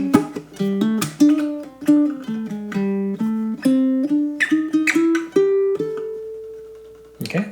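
Baritone ukulele plays the closing phrase of a funk riff: crisp plucked and strummed notes in a syncopated pattern, stepping upward to a final ringing note and a last sharp strum, clear and close with no talking.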